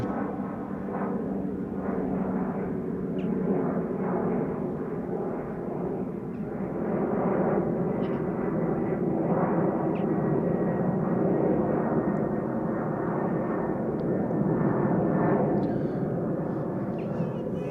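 A Norwegian airliner at Amsterdam Schiphol Airport produces a sustained, loud jet engine roar that swells and rolls steadily for many seconds, with no talking over it.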